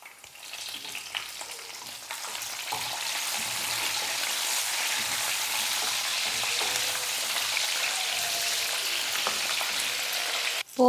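Mustard seeds, curry leaves, dried red chillies and garlic tempering in hot oil, a continuous bright, crackling sizzle held steady and close, with no voices.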